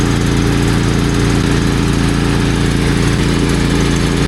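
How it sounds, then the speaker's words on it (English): A shop air compressor runs steadily while filling the air lines of an old 1981 Kenworth truck, a loud, unbroken mechanical drone with a strong low pulsing hum and no break or talk throughout. "I've got the air compressor on"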